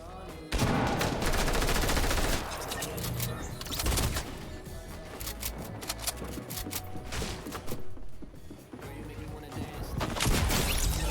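Rapid bursts of video-game gunfire from a single gun crackle loudly and repeatedly, dense and close, with occasional gaps between volleys and some talk mixed in.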